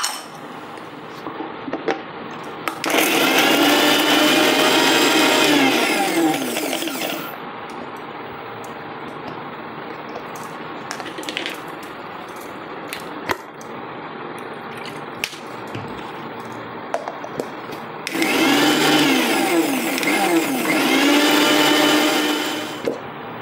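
Mixer grinder blending onion, garlic and cashew into a paste, two loud whirring bursts of several seconds each separated by quieter clinks and handling noises, close by.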